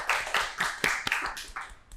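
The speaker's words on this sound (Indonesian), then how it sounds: "Tepuk tangan buat Ida Erlinda" A small audience claps for Ida Erlinda, a sparse scattering of distinct hand claps with gaps between them, close and moderately loud, over a faint background.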